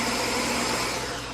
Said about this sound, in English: we're going to put them into our blender, and we're going to pulse just those cooked chickpeas and some of the garlic